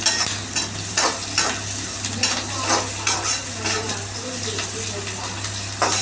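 Onions, urad dal and dried red chillies fry and sizzle in a pan for an agathi keerai stir-fry, with a steady crackle and repeated scrapes of stirring throughout, up close and without speech.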